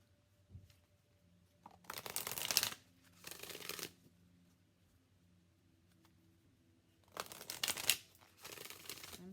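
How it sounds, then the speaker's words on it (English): Enchanted Map Oracle cards being shuffled by hand come through in four short crisp bursts of riffling and slapping, separated by quiet pauses, close and fairly soft. "I'm shuffling this way because I'm trying to unbend them."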